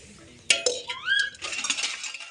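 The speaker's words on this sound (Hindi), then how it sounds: "मैं अभी बर्तन धो रही हूँ, फिर बर्तन धो के कपड़े धोऊंगी।" Dishes being washed by hand, with a sharp clink of metal utensils and pots followed by scraping and rattling clatter, close and moderately loud.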